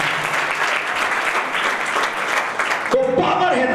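Loud applause from a church congregation fills most of the moment, dense clapping that stops abruptly as a voice begins speaking.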